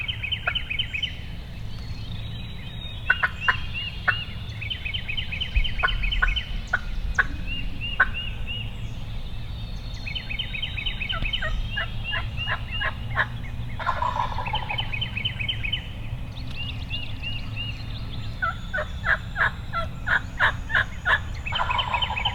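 A wild turkey on its roost in a tree gobbles repeatedly in rattling bursts, some 60 to 70 yards off, over a steady low rumble of wind or background noise.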